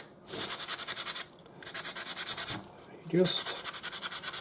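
Sandpaper rubs back and forth over a hand-carved wooden spoon in quick rhythmic strokes, close and fairly loud, in three bursts separated by short pauses, with a brief spoken word in between.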